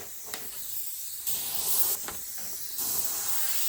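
An airbrush sprays paint onto a goalie mask backplate in short hissing bursts, three or four close-up pulses of compressed air with quieter hiss between them.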